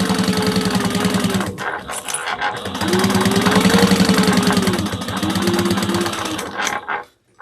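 A domestic sewing machine runs in steady bursts, basting the lower gusset of a fabric sling at an eighth-inch seam, its close rapid mechanical chatter rising and falling in speed with brief pauses, then stopping near the end.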